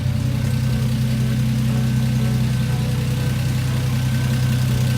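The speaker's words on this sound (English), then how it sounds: "Car seems to be idling really good." A Lexus SC300 engine idles steadily at full operating temperature just after its first start following a build, a loud, even low rumble with a constant hum and no revving.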